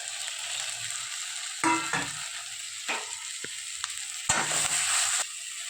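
A spoon scrapes and stirs spice powders in a frying pan of egg curry with chopped tomatoes, giving intermittent bursts of scraping over a soft steady sizzle.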